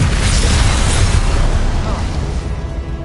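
A Confringo blasting spell explodes in Hogwarts Legacy with a loud, close, deep boom that rumbles heavily for about two seconds and then tails off quickly.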